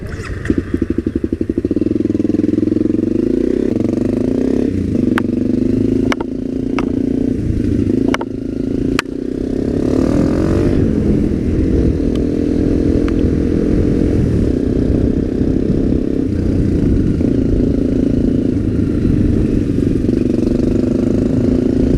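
An off-road motorcycle engine idles loudly and steadily, with a few sharp mechanical clicks early on and a brief rev that settles back to a rumbling idle.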